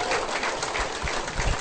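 A seminar crowd applauds in a dense, steady patter of clapping that stays even and fairly loud throughout the brief moment.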